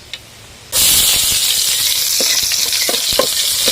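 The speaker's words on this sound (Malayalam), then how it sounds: "അടുത്ത അടുത്തത് കൊച്ചുള്ളി കരിയാപ്പിള്ളയും കൂടെ ഇടാൻ പോവാ കടു വറക്കാൻ" Mustard seeds, shallots and curry leaves hit hot coconut oil with a sudden loud sizzle that stays steady and bright, with small crackles and pops on top, for a sweet potato leaf thoran.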